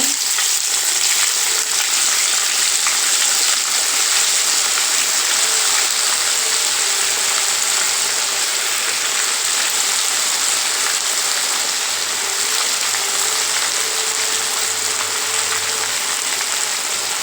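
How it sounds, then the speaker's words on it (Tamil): Chickpea vadas deep-frying in hot oil, a dense, even sizzle and bubbling that carries steadily and loudly for the whole stretch, close up with no voices. "இப்போ வந்து நம்ம எண்ணெயில் பொரிச்சிக்கலாம்"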